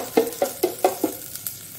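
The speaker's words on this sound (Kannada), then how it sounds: "ಈ ಎಲೆ ಎಲ್ಲ ಇದರಲ್ಲೇ ಒಂದು ತುಪ್ಪದಲ್ಲೇ ಸ್ವಲ್ಪ ಅದರಲ್ಲೇ ಫ್ರೈ ಆಗಬೇಕು" Leaves frying in ghee in a pan, stirred in about five quick regular scrapes with a soft sizzle underneath, close and clear, followed by a couple of fainter clinks.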